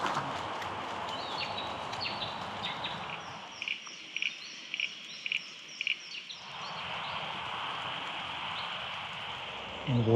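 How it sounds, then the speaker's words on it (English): Steady rain falls around a campervan parked near a plant-covered waterway, a continuous hiss that briefly thins in the middle while a few faint bird-like chirps come through before the downpour swells back. "It is raining now"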